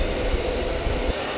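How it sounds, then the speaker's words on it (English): A hair dryer on its low setting blows warm air over a puppy after a bath, giving a steady, close whooshing hum with a faint low rumble throughout. "I'm going to turn the dryer on low"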